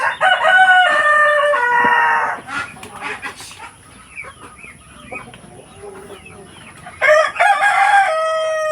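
A rooster crows loudly twice, near the start and again near the end, with softer clucking and chirping of fowl and young birds in between.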